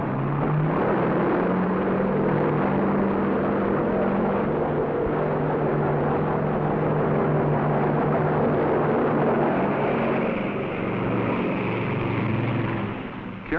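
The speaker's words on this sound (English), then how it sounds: "An S-2F tracker is launched." S-2F Tracker twin-engine anti-submarine aircraft launched from a Navy aircraft carrier, a loud continuous droning roar with a deep rumble that holds steady throughout, with a slight shift near the end.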